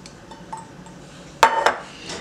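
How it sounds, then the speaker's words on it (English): A utensil clinks and scrapes against a bowl while brown sugar and ketchup are stirred together for meatloaf, a few faint taps followed by a louder burst of scraping, close up. "I mix the brown sugar and the ketchup together."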